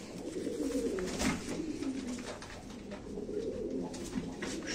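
Pigeons coo steadily in a low, continuous murmur at a live pigeon auction, the soft throaty calls overlapping throughout with no speech over them.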